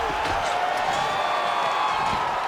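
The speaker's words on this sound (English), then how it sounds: "Stand and cheer, ladies and gentlemen." Crowd cheering and applause from a UFC 5 video game fight fill the clip as a steady, dense roar with a few whoops rising above it.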